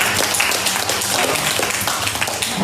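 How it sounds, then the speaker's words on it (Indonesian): An audience in an Indonesian talk session claps for a guest named Mas Sony, giving a steady burst of mixed applause that fills the room at moderate loudness with a faint voice underneath. "boleh kita tepuk tangan dulu dong buat Mas Sony"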